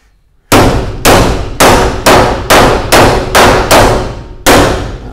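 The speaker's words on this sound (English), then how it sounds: "That's the really, really tiny sensible tappy hammer." A very small hammer strikes metal nine times in a steady rhythm while fitting a recovery truck body on a Mercedes Sprinter 310D, each tap loud, close and ringing before the next.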